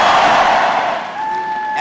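A large crowd at an election campaign rally cheers and roars loudly, a dense wash of voices that eases slightly toward the end, where a faint tonal sound emerges.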